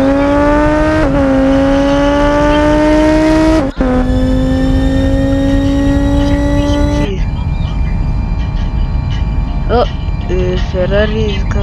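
A Ferrari engine in the BeamNG driving game, loud and close, revving with sustained high-pitched tones that drop and climb between gear changes, then shifting to squealing and varied engine notes near the end, with a voice speaking over it.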